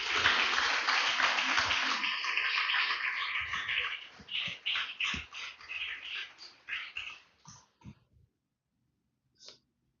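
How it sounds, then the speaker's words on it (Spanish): A church congregation breaks into dense, vigorous applause that thins into scattered claps before fading to silence. "Déselo fuerte el aplauso"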